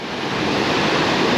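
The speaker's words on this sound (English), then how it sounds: "And we've made it to St. Mary Falls. This one's really rolling too." St. Mary Falls in Glacier National Park roars with a powerful, steady rush of turquoise water, a loud continuous broadband wash close by with no break and no voices.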